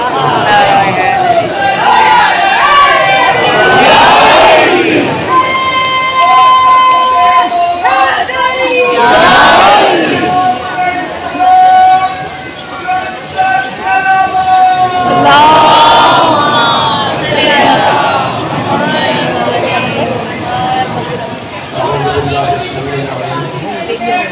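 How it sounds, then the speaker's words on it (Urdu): A large crowd at a Ramzan gathering for the martyrdom of Imam Ali at Mochi Gate raises loud religious slogans. Several long, rhythmic bursts of massed voices come close and loud, with short gaps and babble between them. "تو علی علیہ السلام کے نام کے نعرے بلند رکھنا."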